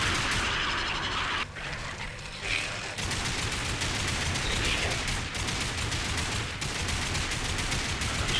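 Continuous heavy gunfire in Lost Planet 3, dense rapid shots and blasts layered over loud combat noise, near and relentless with only a brief dip.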